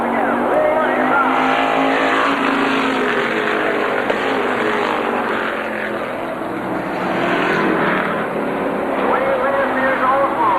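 Stock race cars, including an Oldsmobile and a Buick, roar around an oval track at Airborne Raceway in 1990, their engines swelling and fading as the pack passes. An announcer talks over the racing.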